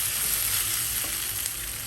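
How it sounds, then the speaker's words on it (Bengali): Eggs and potatoes sizzle steadily in a hot pan, a close, even crackling hiss that continues for two seconds without any talking. "তো এই যে আমি ডিম আর আলুটা ভেজে নিচ্ছি।"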